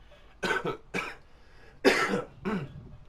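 Four harsh coughs in an uneven sequence, close and loud, with short pauses between them.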